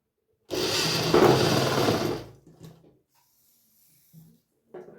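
A sewing machine runs a straight line of stitching on old T-shirt fabric for a baby frock, a close, loud whirring burst of about two seconds followed by quiet fabric handling and small clicks.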